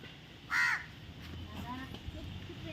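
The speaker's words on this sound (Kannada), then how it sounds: "ಕಾಗೆ ನೋಡಿ ಗೈಸ್, ಕಾಗೆ." A crow in a soapnut tree gives one loud, close caw early on, followed by quieter outdoor background with faint voices.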